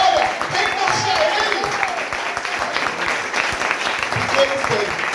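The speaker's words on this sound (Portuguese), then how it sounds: "Quem crê que Ele é digno de uma salva de palmas?" A church congregation applauds together, a dense sustained clapping that swells and holds for several seconds, with a voice speaking over it.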